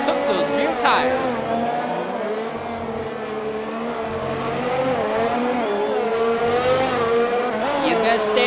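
A sim race car spinning out at Catalunya, Spain, its engine revving and wavering in pitch with tire squeal as it slides around, loud and continuous beneath a commentator's voice.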